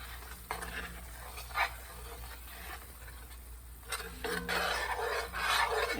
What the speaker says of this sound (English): I know that's a bad racket, but we got to scrape those bits out of that iron skillet